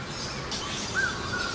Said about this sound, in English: Now that bird making that noise now, that's a grey butcher bird.